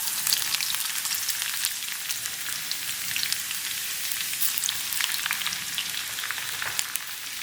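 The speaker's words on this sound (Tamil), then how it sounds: "இப்போ நம்மளோட பூண்டெல்லாம் போட்டு நல்லா கிறிஸ்பியாக ஆகிற வரைக்கும் ஃப்ரை பண்ணலாம்." Garlic fries in hot oil until crispy, producing a close, constant bright sizzle with scattered sharp pops and crackles throughout, with no voices.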